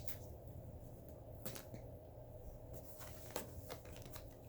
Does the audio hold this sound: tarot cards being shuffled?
yes